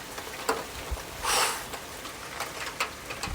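Small hailstones and rain falling during a strong thunderstorm in Ille-et-Vilaine, France: a faint steady hiss of rain with scattered light ticks and taps and one brief louder gust of patter.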